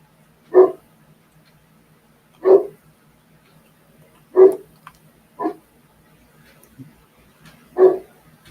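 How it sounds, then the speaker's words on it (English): A dog barks five times in separate single woofs spaced a second or two apart, fairly close and loud against a quiet indoor background with a faint low hum. "I might have to go shut my dog up. He's making himself a nuisance."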